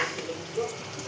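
Food frying in a pan until golden, a soft steady sizzle with faint stirring scrapes, low and even throughout, a brief brighter clink at the very end.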